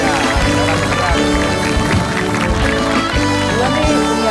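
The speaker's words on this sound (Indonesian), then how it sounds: "Tepuk tangan buat David Nurbianto." Studio audience at an Indonesian comedy show applauds and cheers for a stand-up comedian, a dense, steady wash of clapping with music and voices mixed underneath throughout.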